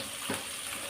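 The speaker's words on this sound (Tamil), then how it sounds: "மறுபடியும் வதக்கிக்கிடுவோம்." Vegetables for a simple sambar, seasoned with rock salt, sizzle as they are sautéed in a pan, with a brief scrape of stirring partway through a short steady hiss.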